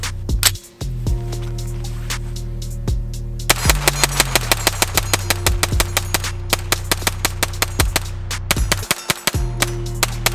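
A BattleArms Xiphos 9 pistol fires from a 50-round KCI drum magazine in a rapid series of loud, sharp shots with short breaks between strings.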